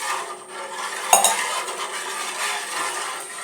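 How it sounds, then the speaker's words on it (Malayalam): A spoon scrapes and clinks against a pan while rava payasam with jaggery is stirred, giving a sharp metallic knock near the start followed by continuous soft scraping and faint sizzle, close and without talk. "അടി പിടിക്കാതെ ഇളക്കി കൊടുക്കണം."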